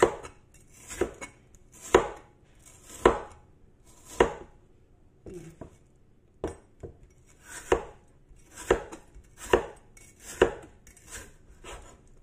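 A knife thinly slices bitter gourd (ampalaya) on a board in a run of crisp, close chops. The strokes are evenly spaced, roughly one per second, with brief pauses between them and no talking.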